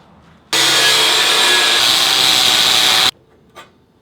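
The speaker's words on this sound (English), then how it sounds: "we're gonna cut a 2-inch by 2-inch square out of 12 gauge to cap off the end of the axle" A power tool cutting through a square of 12 gauge steel for a drift trike axle cap, one continuous loud, harsh grinding burst lasting a few seconds that stops abruptly, leaving quiet background noise.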